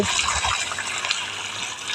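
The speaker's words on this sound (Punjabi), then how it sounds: "ਤਾਜ਼ਾ ਪਾਣੀ ਪਾਵਾਂਗੇ" A steady rush of water pours and splashes continuously, fairly loud and close, with no voices.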